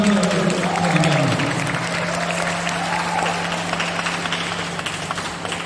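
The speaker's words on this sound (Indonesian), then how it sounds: "Tepuk tangan untuk Prodi kami." Audience applause at a large alumni reunion, a broad steady wash of clapping that fades gradually, with a low sustained tone and faint murmuring beneath it.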